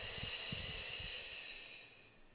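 Long, soft, airy exhale through pursed lips, as if blowing into a straw, heard close and alone and fading toward the end.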